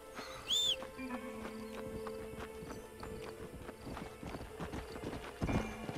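A horse in the Red Dead Redemption 2 video game clip-clops steadily along with a brief neigh near the start and another near the end, heard close and alone with no talk.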